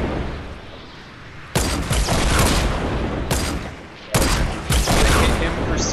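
Gunfire in Fortnite, loud bursts of rapid shots in several volleys, near and heavy, separated by short pauses of background noise.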